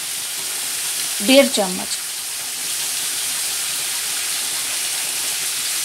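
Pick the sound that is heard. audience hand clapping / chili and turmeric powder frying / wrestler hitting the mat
chili and turmeric powder frying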